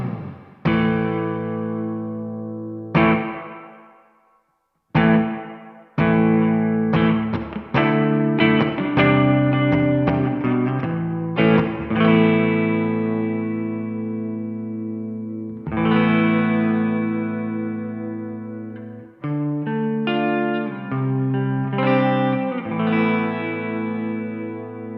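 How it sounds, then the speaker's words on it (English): Distorted guitar phrases run through a plate reverb on a DemonFX Reverb&Delay Workstation pedal, its morph control set to warm the tone; chords and single notes ring out with lush tails, a brief gap near five seconds, no voices. "on this plate reverb, the morph controls how warm the signal is"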